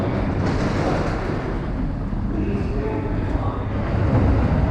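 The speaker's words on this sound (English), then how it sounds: "Oh, train's here." A train pulls into Ikebukuro Station, a loud rumbling wash of wheel and motor noise with rushing air, building slightly toward the end.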